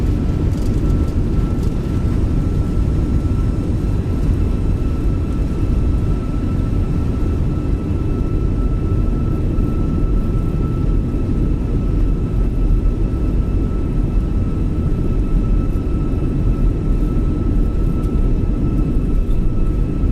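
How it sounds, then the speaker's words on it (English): Airliner engines roar in reverse thrust after touchdown in a flight simulator landing at Athens, a loud, steady broadband rumble with a faint high whine holding throughout, no talking. "let's turn those reverse thrusters off"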